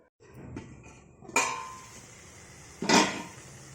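A metal lid is set onto a cooking pot of cabbage and potato curry on a simmering stove, giving two sharp clanks about one and a half seconds apart over a low kitchen hum.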